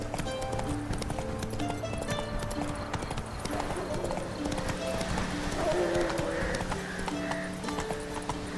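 Roach, a horse in the video game The Witcher 3, gallops in steady rhythmic hoofbeats with a whinny partway through, over game music and a voice speaking.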